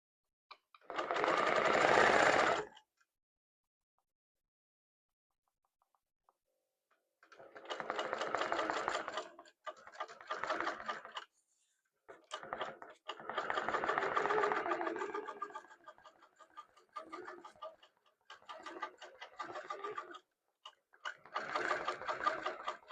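A sewing machine bastes fabric in loud, close bursts of rapid stitching: one short run, a long pause, then several stop-start runs of rattling needle strokes separated by brief gaps.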